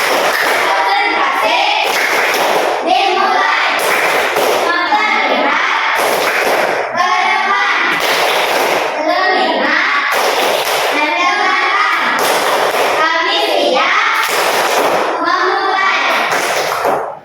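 A group of children chant and clap in rhythm during a classroom routine called tepuk konsentrasi, with repeated bursts of hand claps alternating with loud voices throughout.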